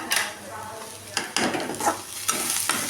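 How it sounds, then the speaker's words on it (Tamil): Grated coconut and curry leaves added to roasted cumin and chili in a hot pan, sizzling close up as a spoon stirs and scrapes several times. "தேங்காய் கருவேப்பிலை ஆட் பண்ணிக்கலாங்க"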